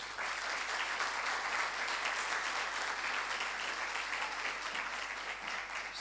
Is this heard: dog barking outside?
no